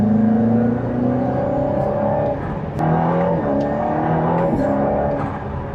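Aston Martin Valhalla hypercar engine surges and revs after downshifts, a loud continuous rising drone heard from inside the cabin, with gear-change shifts in pitch and no talking.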